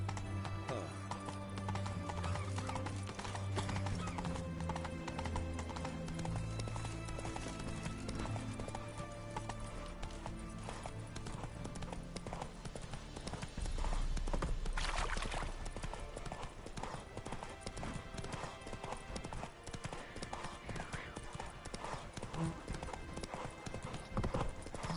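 Roach the horse gallops in The Witcher 3, with rapid rhythmic hoofbeats running steadily throughout and an occasional whinny, set against game music and ambience.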